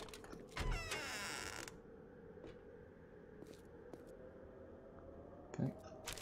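A wooden door in the 7 Days to Die video game (Alpha 18) swings open with a drawn-out creak, followed by scattered faint clicks and thuds over a quiet, low background.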